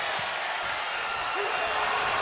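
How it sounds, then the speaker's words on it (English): Steady crowd noise from an arena audience in the WWE 2K25 wrestling video game, a continuous broad roar of cheering held at an even level during a women's tag team match. "The crowd are loving it."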